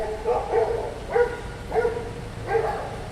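Four sharp dog barks come at uneven intervals, moderately loud and nearby, with a low background hum in between.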